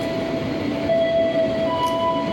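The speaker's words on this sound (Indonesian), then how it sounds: "Kereta api Sembrani teman-teman dari stasiun Surabaya Pasar Turi" Sembrani passenger train from Surabaya Pasar Turi in Indonesia, running with a steady rumbling roar and thin high metallic squeals from the wheels, heard continuously and close with no talking.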